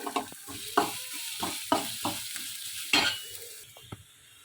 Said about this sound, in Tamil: அது கூடவே பச்சை மிளகாய் போட்டு வதக்கிக்கோங்க.